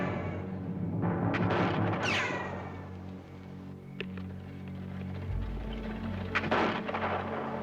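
Gunfire rings out in an old frontier western scene, a few sharp reports with echoing tails spread over several seconds against a dense, rumbling background.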